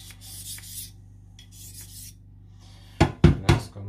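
A blade with a very thin edge drawn lightly across a sharpening stone under barely any pressure, giving soft rasping strokes, then three louder, sharper scraping strokes close by near the end.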